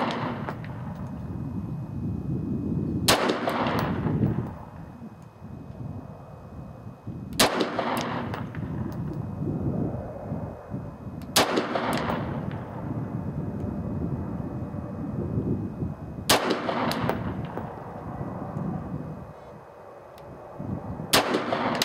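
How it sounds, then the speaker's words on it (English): Shots from a Norinco NP-17 9mm pistol fired at targets on an outdoor range, five loud, sharp reports spaced roughly four seconds apart, each with a short echoing tail over a steady wind-like background. "I'm shooting at the right target."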